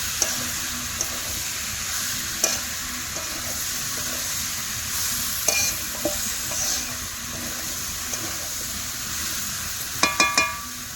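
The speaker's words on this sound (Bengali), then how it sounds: "ভালো করে কষাতে হবে।" Snail curry is stirred and sautéed in a pan, with a steady loud sizzle of frying throughout and occasional scrapes and clinks of the spoon against the pan, including a quick cluster of knocks near the end.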